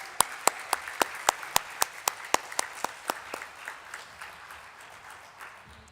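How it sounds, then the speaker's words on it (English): A small audience at a COP27 climate finance event clapping to welcome a speaker, distinct individual claps in a quick rhythm that thin out and fade over several seconds. "can we have a round of applause for Vanessa and welcome her to the stage?"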